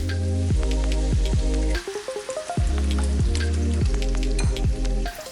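Bacon fries in a pan with a steady, close sizzle that runs throughout beneath loud, rhythmic background music.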